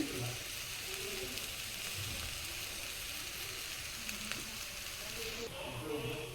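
Soya chunks (meal maker) sizzle steadily while frying in plenty of oil, a dense crackling hiss that stays even throughout, with faint background sounds and no clear talk.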